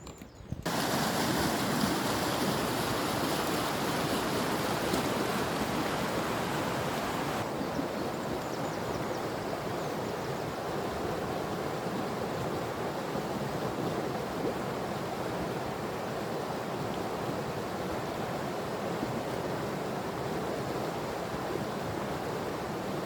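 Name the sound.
outdoor ambience at a pond in the morning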